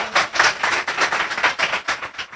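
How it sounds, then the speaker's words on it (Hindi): An open-mic audience in Indore applauds together, a dense, steady wash of many hands clapping nearby with soft rhythmic swells and no voices over it. "बोलो एक बार पटवारियों के लिए तालियां हो जाएं एक बार जोरदार"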